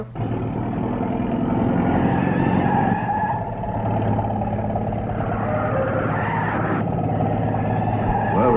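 A truck engine drones steadily and loudly close by, its low rumble sustained throughout, with some road and skid-like noise over it.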